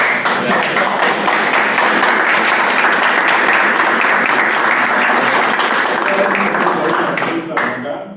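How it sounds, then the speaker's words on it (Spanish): An audience applauds after a lecture on sustainable architecture, a loud, dense, continuous round of clapping lasting about eight seconds with voices mixed in, tapering off abruptly at the end. "Yo creo que se merece un aplauso"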